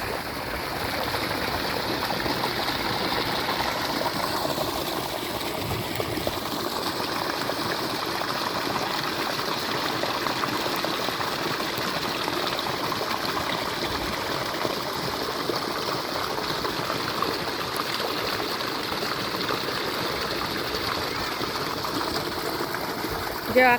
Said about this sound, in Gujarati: પાણીની સાથે સાથે દવા પણ મૂકેલી છે પાણીની સાથે સાથે દવા જાય છે ખેતરમાં